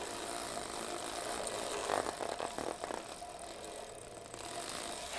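Drivetrain of a Diadora Passato 700C women's hybrid bike spun backward, a soft steady freewheel ticking and chain whir with a few slightly louder clicks in the middle, faint and close, no voices.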